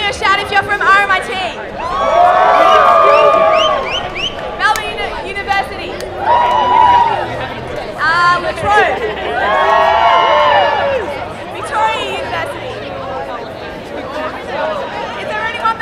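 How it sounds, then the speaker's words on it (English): A university crowd of RMIT students at an outdoor gathering shouts, whoops and cheers in several loud swells over a steady babble of voices, with someone speaking between the bursts. "Give me a shout if you're from RMIT."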